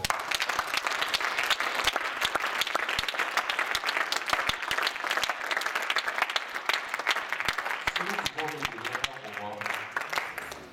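A church congregation applauds steadily throughout, a dense crowd of clapping hands, and a voice or music briefly rises near the end.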